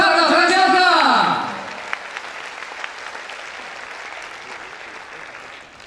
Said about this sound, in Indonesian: kita beri tepuk tangan untuk Pak Butet Kertarajasa